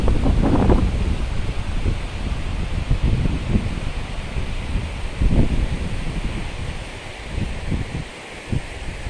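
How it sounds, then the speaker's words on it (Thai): Steady roar of strong wind buffeting outdoors, with gusty rumbling bursts and broadband noise throughout, no voices. "ลมก็แรงด้วยค่ะ"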